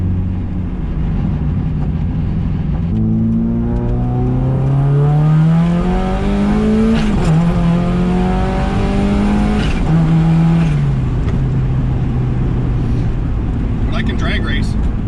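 A turbocharged Mazda Miata at 10 psi boost accelerates hard through rising engine pulls and gear shifts, loud and close, with a person talking over it.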